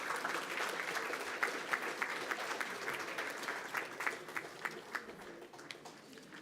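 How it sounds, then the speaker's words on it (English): A school board meeting audience claps again, a fairly soft, continuous round of applause from a roomful of people, steady for several seconds with scattered sharper claps toward the end. "let's give them another round of applause."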